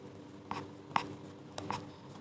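Pen or chalk writing during a maths lesson, heard as a few faint taps and short scratchy strokes spaced irregularly over a quiet room hum.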